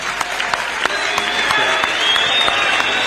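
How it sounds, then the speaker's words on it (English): An audience at a UPND political party assembly in Zambia applauds for the president, with steady, rapid clapping from many hands filling the space and a few sharp louder claps standing out. "let's stand up and give him a very big arousing clap"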